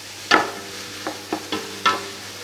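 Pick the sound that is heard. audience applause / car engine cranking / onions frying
onions frying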